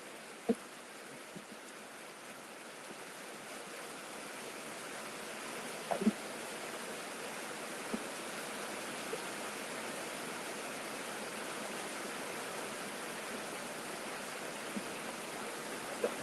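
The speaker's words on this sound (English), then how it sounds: "Even with the rain coming down, give me a thumbs up if you can hear me." Steady rain falling outdoors on a rainy day, a continuous even hiss of drops with a few faint taps and clicks scattered throughout, with no talking.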